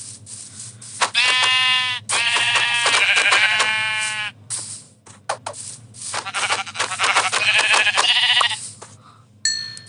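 Repeated Minecraft sheep bleats, loud and close, several drawn-out calls in succession with short gaps between them.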